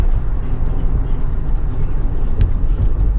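A blue 2006 Toyota Sienna LE minivan drives along, producing a steady low interior rumble of road and engine noise with no distinct gear changes standing out.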